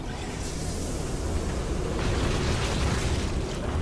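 Gas released inside an infested facility in StarCraft 2 makes a loud, continuous rushing hiss with a deep rumble underneath, steady and slightly swelling across the whole stretch, with no voices.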